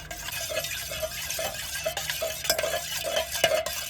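Ghee mixed with resin incense powder and camphor powder for a Diwali lamp is stirred in a small vessel, giving steady rhythmic scraping strokes about twice a second, close and fairly quiet, with no talking.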